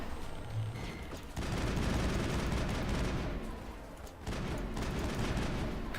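Gunfire in the Mass Effect video game, a dense continuous barrage of shots and rumbling blasts filling the scene, loud and close throughout with a brief dip, and no talk.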